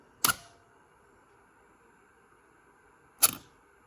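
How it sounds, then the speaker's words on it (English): Two sharp mechanical shutter clicks from a Canon FT QL film camera with 50mm f1.4 lens, about three seconds apart, each a crisp snap with a brief tail over quiet background. "That's the sound of the shutter."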